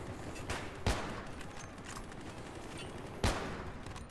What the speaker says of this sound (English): If I fire enough down there, I will get a kill eventually.